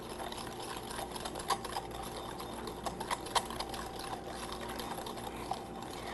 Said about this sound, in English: So while it simmers, I'm going to whisk.